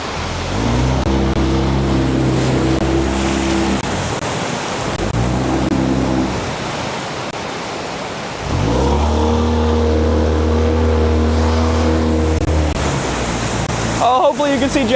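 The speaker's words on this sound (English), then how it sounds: "These waves are really big right now, and they only get bigger towards the end of the year." Big whitewater rapids on the Thompson River roar steadily around a safety boat, with a motor droning loudly in bursts that rise and fall over the constant churning water.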